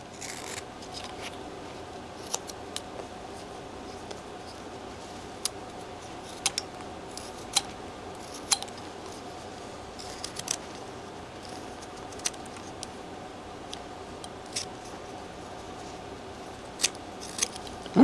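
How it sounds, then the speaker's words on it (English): A carving knife cuts into a wood figure in a quiet room, making short, sparse scraping and snipping ticks at irregular intervals, close by and soft. "let's come down here and cut down like this where the arms would"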